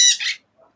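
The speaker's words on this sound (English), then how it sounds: "even with these loud ass birds" Loud birds squawk in two harsh, close bursts in quick succession, followed by a faint softer call.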